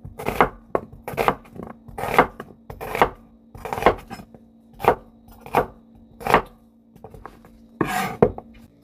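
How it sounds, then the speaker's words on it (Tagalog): A knife slices through a whole onion on a cutting board in a steady, regular rhythm, with about a dozen crisp, close chops spaced roughly half a second apart. "Kaya buong onion po ang ating i-slice."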